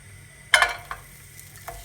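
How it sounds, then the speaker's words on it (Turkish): Butter meeting a heated frying pan gives one short, sharp sizzle burst, then a few faint crackles and taps fade into quiet. "Güzelce ısıttım tavamı. Şimdi tereyağımı ekliyorum."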